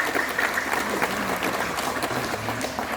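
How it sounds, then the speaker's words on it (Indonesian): Clapping from a congregation at an outdoor shrine during a New Year's Mass, steady and moderately distant, filling the whole moment without talk. "Tepuk tangan."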